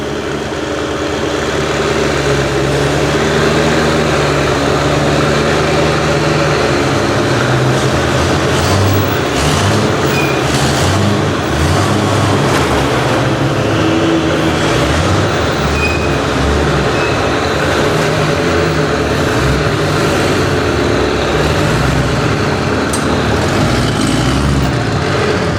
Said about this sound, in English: The cars need to move